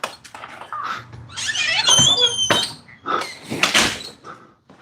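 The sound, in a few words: door being closed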